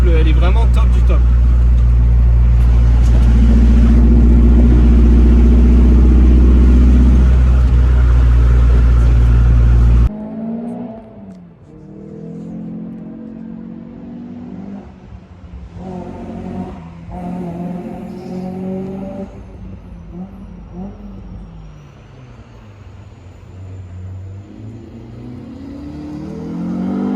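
A car engine cruising in fifth gear, heard as a loud, steady low drone close by that drops away abruptly midway, then gives way to someone talking over a quieter cabin hum.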